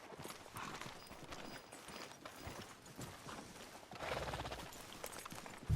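Steady clip-clop of horse hooves trotting at a moderate pace in Red Dead Redemption 2, fairly faint and continuous, with no talking.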